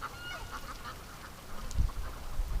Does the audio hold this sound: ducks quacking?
yes